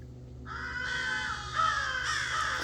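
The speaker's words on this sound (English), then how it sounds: "Don't mind them crows." Several crows caw close by outdoors in harsh, drawn-out calls that overlap and swell, loud and clear with no talking.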